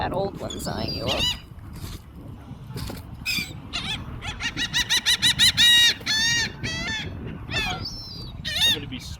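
Sandpipers and seagulls call noisily at a shore feeding spot, a mix of rapid repeated squeals, honking cries and chattering bursts, loud and close, with people talking beneath and between the calls.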